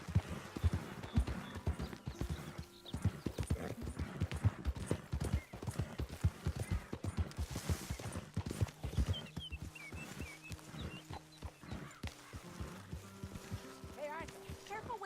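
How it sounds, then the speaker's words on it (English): Horse hooves clip-clopping steadily on the ground in the Red Dead Redemption 2 video game, a continuous close rhythmic patter with faint ambient game sounds and brief tonal cues layered over it. "Hey, Arthur, careful with that horse, Arthur."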